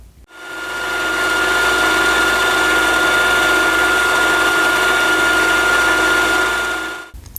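Machine tool cuts the valleys between gear teeth for a 150cc four-stroke engine part, a steady loud continuous grinding whir with a constant tonal hum, running unbroken for about seven seconds with no talk.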